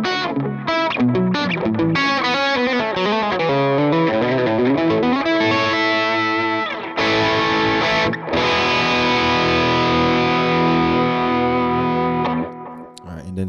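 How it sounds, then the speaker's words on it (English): Overdriven electric guitar on the bridge pickup through a Friedman IR-X, with a bright, biting tone playing chugging rhythm chords, then letting sustained distorted chords ring out, loud and close. "here's channel two. And I'll use the bridge pickup just to show you some of the rhythm tones."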